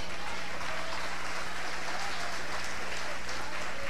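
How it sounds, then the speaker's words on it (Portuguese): A church congregation breaks into sustained, thick applause during a sermon, an even wash of many hands clapping over a low electrical hum, with no speech on top. "Aplauda o Messias."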